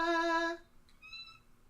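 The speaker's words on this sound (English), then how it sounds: "And that's a cat" A cat named Mono answers a loud sustained musical note with a short, fairly high meow matching the pitch, quieter than the tone and heard alone after it.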